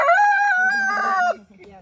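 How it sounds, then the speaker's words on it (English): A rooster at a farm retreat in Williamson County, Tennessee lets out a single loud, close crow that holds steady for over a second, then drops off and falls quiet. "talking to the chickens"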